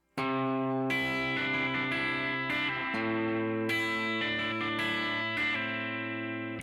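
A guitar plays the chorus of a song, a steady run of strummed chords with shifting changes, its tone thick with effects and echo, continuous and loud, no voices.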